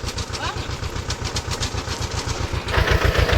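A tractor engine chugs in a fast, steady rhythm close by, growing louder near the end; a voice speaks briefly over it.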